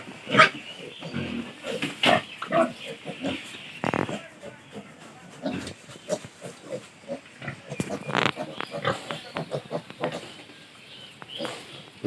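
Pigs on a farm in Dhemaji grunt and squeal continuously in a bamboo-sided pen, with many overlapping close calls and snorts at varying loudness.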